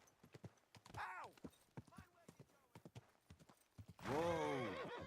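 Horse hooves clip-clop in a steady rhythm in The Witcher video game while a horse whinnies twice, the second neigh loud and close.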